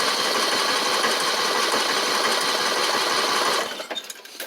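Car engine cranking via a Buture Beta09 jump starter, a continuous rapid whirring churn of the starter motor that stops abruptly near the end, leaving quieter clicks and rattles.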